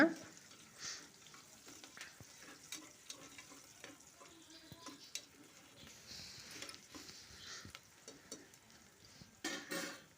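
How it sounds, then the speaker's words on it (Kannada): Onions frying with turmeric powder in a pan as the base for a mutton curry, a steady low sizzle with occasional stirring clinks and scrapes, fairly faint and with no talking. "ಅರಶಿನ ಪುಡಿನ ಹಾಕ್ಕೊಂಡು ಫ್ರೈ ಮಾಡ್ಕೊಳ್ತಾ ಇದ್ದೀನಿ ಈರುಳ್ಳಿನ"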